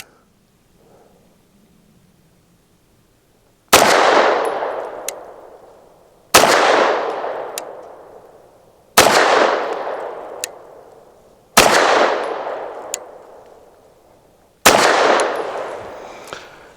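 A BUL Armory TAC Pro 5-inch pistol fires Winchester basic ammunition: five loud, sharp shots spaced a few seconds apart, each with a long ringing decay, and no talking.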